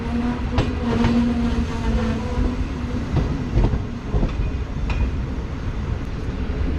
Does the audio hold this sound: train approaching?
yes